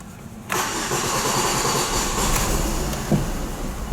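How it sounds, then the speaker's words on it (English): A Pontiac Grand Am engine cranks and catches, then settles into a steady mid-pitched idle, heard up close over background hiss with no talk. "Let's start the engine here."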